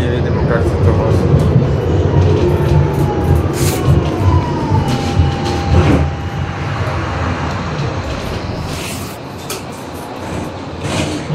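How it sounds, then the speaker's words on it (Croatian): A German-built tram on a Zagreb-area line rolls along, heard from inside as a loud continuous rumble with a rising whine and some rattling, under passengers' voices. "vozimo se na njemačkom tramvaju"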